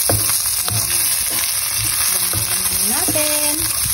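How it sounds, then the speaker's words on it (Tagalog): Garlic sizzles steadily in hot oil in a pan while a few utensil scrapes and clinks punctuate the frying, with no one speaking. "Naglagay na tayo ng mantika sa kawali at bawang."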